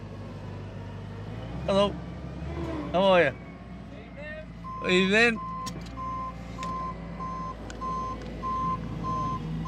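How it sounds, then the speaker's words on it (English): An arriving tractor's engine rumbles steadily nearby while a repeated reversing beep sounds; voices exchange brief greetings over the low drone. "So that was the sound of the tractor arriving"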